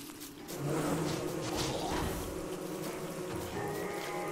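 Swarming bees buzz steadily in the video game Don't Starve, a continuous droning hum that swells after a quiet start and holds close and fairly loud throughout.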